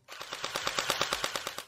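A YaGee DGR-LEI gel blaster fires on full auto, a rapid even burst of about a dozen sharp cracks over under two seconds, close and loud with no talking.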